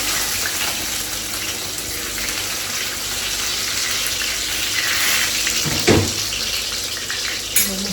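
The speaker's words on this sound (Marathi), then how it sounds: "आता गरम झालेला आहे, आता आपण कांदा बिंदा सर्व टाकून घेऊ." Chopped onions sizzle steadily in hot oil, a dense continuous frying hiss with a brief clatter near the end, close and fairly loud with no talking.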